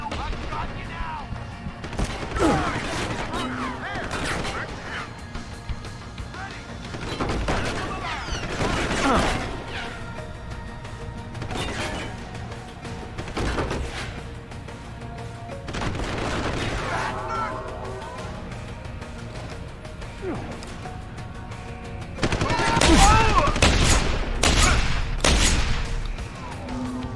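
Gunfire in the Deus Ex: Human Revolution video game, repeated sharp shots and bursts scattered throughout, building to a dense loud volley near the end, with game dialogue shouted between the shots.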